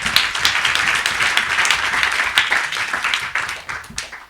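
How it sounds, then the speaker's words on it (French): Sustained applause from a conference audience, a dense, steady patter of many hands clapping at close range, fading slightly at the very end. "On peut l'applaudir."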